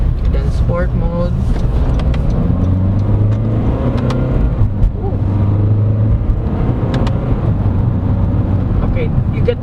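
2022 Honda CR-V SX diesel AWD accelerating in sport mode: a loud, close engine drone whose tones climb steadily as the revs build, over constant road and cabin rumble.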